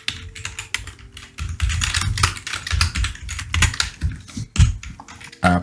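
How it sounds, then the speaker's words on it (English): Rapid, uneven typing on a computer keyboard, close and clear, with bursts of keystrokes and brief pauses while entering HTML code, no talking. "I apologize for my slow typing."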